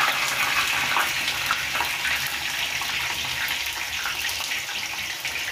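Stuffed potatoes with minced meat fry in very hot oil, giving a continuous loud, dense sizzle and crackle that runs steadily throughout without any talking.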